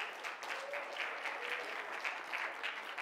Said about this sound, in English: Let's give the Lord a hand clap of praise as we're seated.